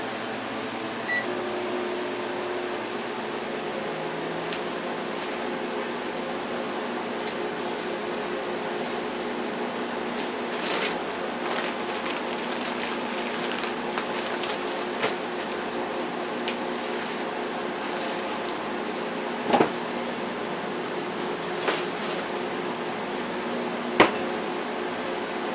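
A microwave oven hums steadily as it heats a dish of penne pasta with ground sausage, tomato sauce and cheddar cheese, a continuous close drone with a few faint clicks and a brief beep, no talking.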